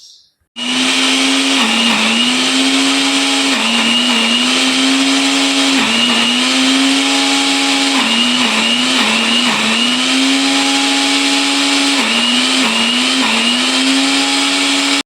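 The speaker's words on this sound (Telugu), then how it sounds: "ఇప్పుడు మిక్సీ జరుగుతుంది" Kitchen mixer grinder blending ivy gourd chutney, a loud, close, continuous motor whine that starts abruptly and dips in pitch every couple of seconds as the load shifts.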